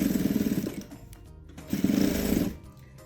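Sewing machine backstitching a pocket on a boho-style diaper bag, two close bursts of rapid, steady stitching separated by a short quiet pause, with no voices.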